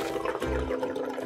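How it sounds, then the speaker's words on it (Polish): Water gushes and roars through a drain, a steady rushing wash with a deep rumble midway, heard alone at close range. "Woda przedostała się przez ten odpływ."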